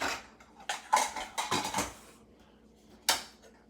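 Ladle clinks and scrapes against a pot while gnocchi with chopped herbs are stirred, a cluster of bright clattering hits followed by a pause and one last sharp clink, close and moderately loud.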